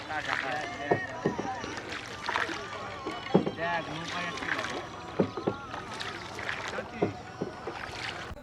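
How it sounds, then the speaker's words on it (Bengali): Several boats setting off together on a river during a birding trip at Chupir Char, with a low continuous engine drone and splashing water while people talk over it. "সবকটা নৌকা একসাথে চলতে আরম্ভ করেছে"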